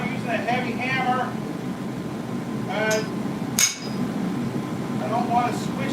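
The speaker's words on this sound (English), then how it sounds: "Not using a heavy hammer." Hammer blows on hot steel while forging a spoon with a spring puller rather than a heavy hammer, a few sharp strikes spaced apart, the loudest near the middle, over steady shop noise with someone talking.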